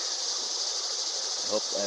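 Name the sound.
cicadas buzzing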